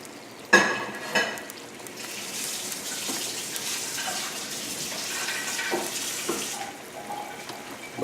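Pork loin chops in spicy salsa bubble and sizzle in a pan, a soft continuous crackle with a sharp clank near the start and a few small knocks, close and moderately quiet.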